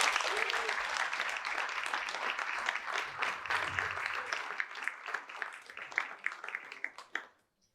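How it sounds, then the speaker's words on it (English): Audience clapping at a high school awards night: a full round of applause from a crowd in a hall, steady at first, then thinning into scattered claps before fading to silence. "Big round of applause for May."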